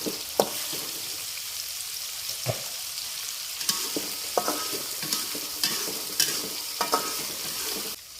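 Sliced tomatoes sizzling in a hot pan with chicken, steady frying hiss broken by intermittent scrapes and clanks of a spatula stirring, close and moderately quiet with no talking.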